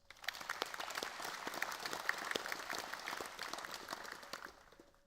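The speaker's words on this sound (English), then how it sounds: "with a warm round of applause" Warm applause from a graduating university crowd at a ceremony in Townsville, dense steady clapping filling the hall for about five seconds before tapering off at the end.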